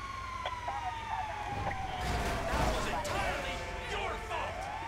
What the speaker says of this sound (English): I got a siren too!